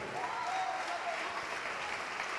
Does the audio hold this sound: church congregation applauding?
yes